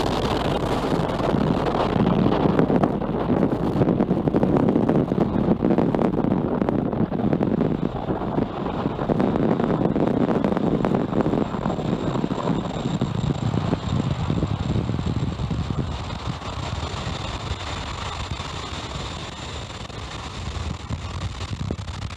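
A SpaceX Falcon 9 carrying Transporter-11 climbs away from Vandenberg on the California coast, its broad rushing roar heavy at first, then thinning and fading into a quieter hiss.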